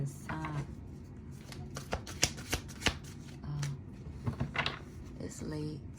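Tarot cards being shuffled during a late-night collective reading, a steady papery riffle with soft slaps and brief quick bursts, close up and fairly quiet, with a voice speaking at moments over it.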